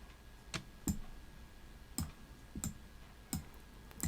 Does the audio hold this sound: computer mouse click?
yes